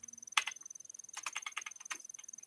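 Rapid keyboard typing from a cat character in a cartoonish adventure video game, a crisp clatter of keystrokes in short bursts over a faint steady background tone, close and alone.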